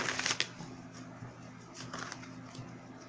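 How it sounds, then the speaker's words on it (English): A deck of tarot cards is riffled in a quick crisp flutter, followed by faint soft shuffling and light handling noises, close and quiet. "Let's go ahead and give it one more shuffle."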